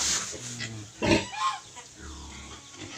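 A Large White and Pietrain crossbreed pig grunts up close in short, rough bursts on a farm, with a faint voice in the background.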